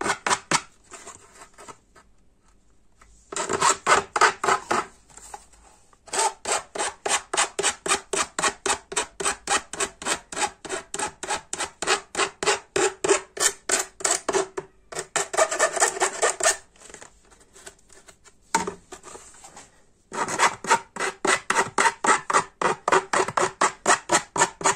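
Metal file rasping burrs off the freshly cut edge of a gutter, in long runs of quick, rhythmic back-and-forth strokes broken by short pauses, close and fairly loud with no voice.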